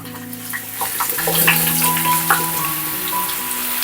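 Potatoes are slid into hot oil in a pan pulled off the heat, and a loud, close crackling sizzle with sharp pops swells and then holds steady with no speech.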